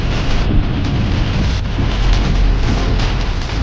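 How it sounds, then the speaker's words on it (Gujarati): Heavy rain pours down in Jaipur, Rajasthan, a loud, dense and unbroken roar that stays close and constant throughout, with no voices. "વરસાદ બહુ છે અને ધીમે ધીમે હેલા થાય છે."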